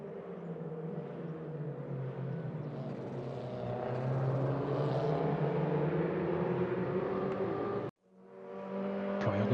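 Porsche 944 Cup race cars in Raceroom Racing roar past as a pack, a dense sustained engine drone that swells louder, cuts off abruptly, then rebuilds with another car's rising revs.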